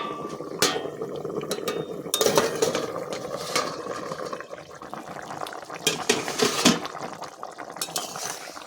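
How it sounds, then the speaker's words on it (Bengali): A metal plate covering a pan of pumpkin, potato and puna fish curry is lifted off, giving sharp metallic clinks and clatters over a soft bubbling simmer, close and fairly loud. "এবার আমি ঢাকা দেওয়া থালাটা তুলে নেব"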